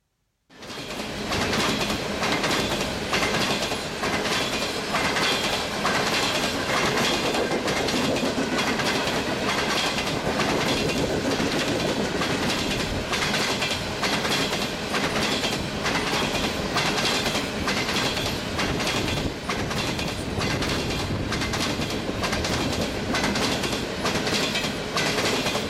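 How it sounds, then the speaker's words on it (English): A freight train rolls past on East Railroad Avenue in Otis Orchards, Washington, a steady loud rumble with rhythmic clickety-clack of wheels over rail joints throughout, close and continuous for the whole stretch. "you can expect to find a wide variety of rail traffic"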